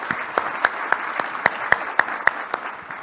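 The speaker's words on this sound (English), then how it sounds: "How about a round of applause for our panel?" A conference audience applauds a panel, with light scattered clapping and a few louder, rhythmic claps standing out at a steady pace, moderately loud in a room.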